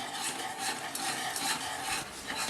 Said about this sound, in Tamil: இதே மாதிரி நம்ம நல்லா சுண்டி வர்ற வரைக்கும் கிளறி விட்டுட்டே இருக்கணும் பக்கத்துலேயே நின்று